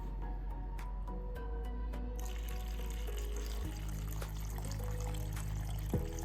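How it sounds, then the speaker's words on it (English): Paint reducer pours into a container while car door jambs are painted, a soft continuous liquid trickle that changes pitch as the level rises. It sits over a steady low background hum. "I hate pouring the reducer. Splashes everywhere."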